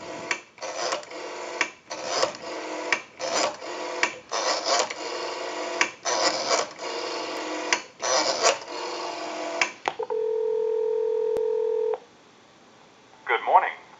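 Rotary dialing on a Western Electric 554 rotary wall telephone: repeated bursts of rapid pulse clicks and dial-return whirring across about ten seconds, followed by a steady tone then a brief noise, with no talk over it.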